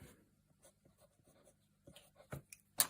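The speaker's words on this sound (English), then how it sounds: "we're going to draw the line at point number 7 to show the halfway point" A pen or pencil drawing a line on a paper pattern, scratchy strokes that start faint and sparse, then grow into a few louder scrapes and a sharp final tap near the end.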